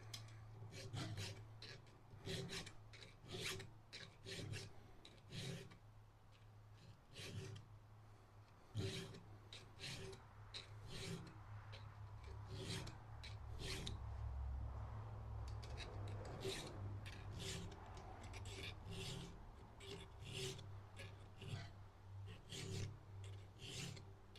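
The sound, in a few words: filing a Stihl chainsaw chain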